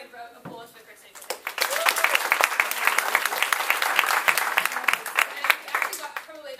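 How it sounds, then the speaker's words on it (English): After a brief spoken moment, a conference audience at an AIESEC Youth to Business forum breaks into loud, dense clapping that continues strongly to the end. "Can we please have another round of applause for Chris Hooper?"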